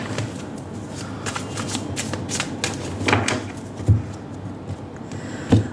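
Close-up riffle of a tarot deck, rapid papery flutters in bursts with a couple of sharper taps as the cards settle, no voices.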